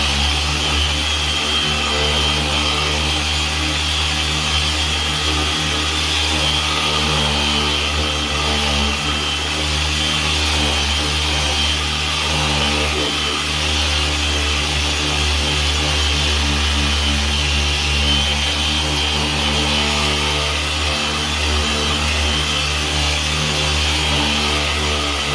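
A buffing pad polisher works Meguiar's Ultimate Polish onto a hazy, yellowed car headlight, producing a continuous loud motor whine and hum that holds steady and close for the whole stretch, with no talking.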